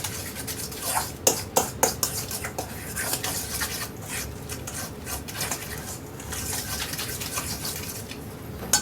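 Bacon is stirred into deviled egg filling in a bowl, with close, irregular clinks and scrapes of a utensil against the dish, the loudest taps near the start and quieter scraping afterward.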